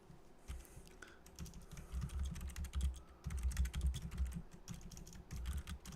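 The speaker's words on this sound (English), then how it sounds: "I'm typing right now." Fingers type on a computer keyboard in rapid, uneven bursts of soft clicks and clacks that sound close and fairly quiet, and no one speaks.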